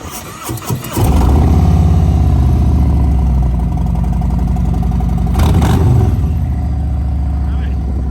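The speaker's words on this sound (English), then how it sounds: "Sounds really good with that S&S exhaust." A 2018 Harley-Davidson Road King engine fires up and settles into a deep, loud rumbling idle, then a brief rev with a throaty S&S aftermarket exhaust.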